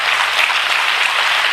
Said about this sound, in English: When I lift my hand, you clap it.